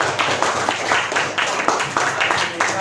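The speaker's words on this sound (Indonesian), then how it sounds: "Tepuk tangan dulu." Students clapping together in a classroom, a group of hands striking in rhythmic bursts, fairly loud and close, repeated in a steady patterned beat for nearly three seconds.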